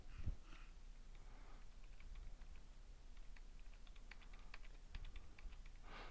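Quiet, scattered keystrokes on a computer keyboard as code is typed, soft and somewhat distant over a steady background hiss, no voices.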